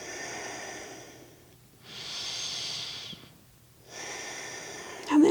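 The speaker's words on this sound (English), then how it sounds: "And breathe into the posture." Slow, deep breaths taken during a neck and shoulder yoga stretch: a long exhale, a pause, a full inhale, then another exhale. Each breath is close and airy, with the final breath ending in a sharper burst.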